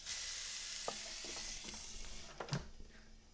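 A ribeye steak sizzling inside a Typhur air fryer, a soft, continuous hiss with a few faint pops and clicks, close by and without voices.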